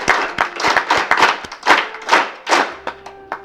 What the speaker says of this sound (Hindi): ये मैंने ताली इसलिए बजवाई